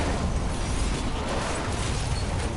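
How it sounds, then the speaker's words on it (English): An explosion in a Spider-Man video game, a loud, dense rumbling blast of broadband noise that fills the short moment without any voices. "Oh, wow, explosion."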